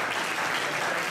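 Applause at an official award ceremony for a memorial event in Italy, a short burst of dense clapping from the gathered audience, steady and fairly loud.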